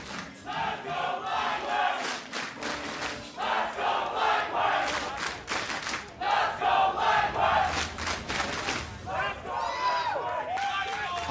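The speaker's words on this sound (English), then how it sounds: "Always love to hear the fans still cheering on their teams" Esports fans at an LCS Spring Split 2019 semifinal, TL vs FLY, cheering and chanting in rising and falling crowd roars, with a commentator talking over them.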